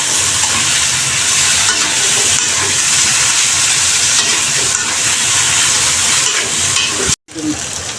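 Potatoes and eggplant frying in hot oil, a loud, steady close-up sizzle and hiss that runs continuously, cut off briefly near the end before resuming.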